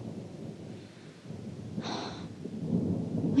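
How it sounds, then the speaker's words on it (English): Distant thunder rolls low and steady through the whole stretch, with a brief hissing swell near the middle and the rumble building slightly toward the end; no voices. "the faraway rumble of thunder"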